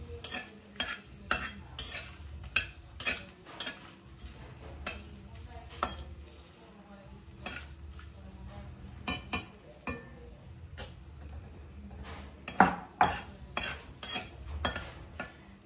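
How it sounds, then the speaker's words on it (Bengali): A spoon scrapes and clatters repeatedly around a pan while hot oil sizzles steadily underneath as chilies fry, close up, with no talking. "লঙ্কাটাও দিয়ে দিচ্ছি, এবার একটু নেড়ে চেড়ে নিচ্ছি"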